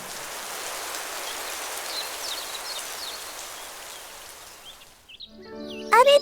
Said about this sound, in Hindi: बारिश रुक गई है।